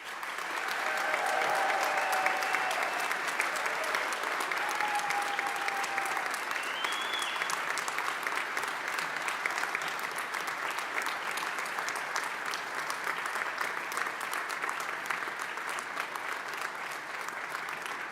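A graduation ceremony audience applauds and cheers for families and friends, a long, loud, continuous roar of clapping with a few whistles and shouts rising above it.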